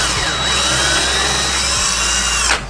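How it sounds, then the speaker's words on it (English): Loud, continuous whine of a power drill spinning a small bit as it bores a pilot hole into plastic, holding steady for over two seconds before cutting off near the end. "Got a small drill bit here. I'm gonna do a pilot hole here"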